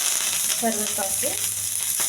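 Curry leaves crackle and sizzle as they hit hot oil in a pan, a constant bright frying hiss with a few brief stirring scrapes in the middle.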